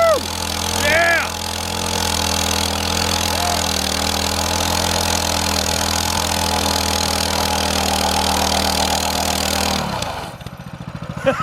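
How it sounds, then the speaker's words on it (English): A modded minibike engine holds loud, sustained high revs through a burnout on a driveway, close and continuous, then cuts off abruptly near the end. "that was a pretty impressive burnout"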